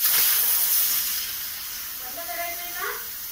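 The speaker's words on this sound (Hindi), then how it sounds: "तो हमारा कुकर यहाँ पे जल रहा है, इसमें छोले हैं" A pressure cooker of chickpeas on a stove releases a steady, fairly loud steam hiss that gradually eases, with a voice faintly present.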